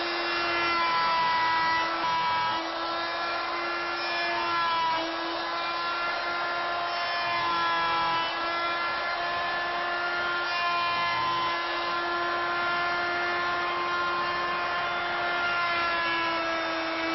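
A hand saw cuts a dovetail joint in wood, front to back along the left side. The sawing runs continuously and close, with a rhythmic rasping tone that shifts slightly as the strokes change, and no voices.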